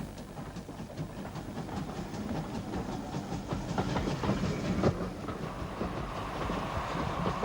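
A GWR 9700 class condensing tank steam locomotive, one of ten built for Metropolitan Railway tunnel work, runs with a steady, fairly loud rumble and rolling clatter of wheels and coaches throughout.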